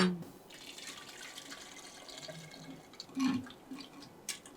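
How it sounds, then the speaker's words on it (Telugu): Water pours softly into a clay pot, a quiet continuous trickle and splash with a brief louder gush partway through. "సో మనం వాటర్ యాడ్ చేద్దాం కావాల్సినంత"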